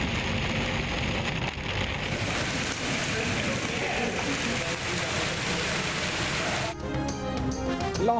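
Steady pre-monsoon rain pours down in Lahore, a dense, continuous hiss of drops on surfaces that stays loud throughout before the sound cuts abruptly near the end.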